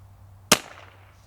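A single sharp crack of a rimfire rifle, a CZ 457, Vudoo or Snapdragon fired at a 150-yard target, stands out once against quiet, followed by a short fading tail.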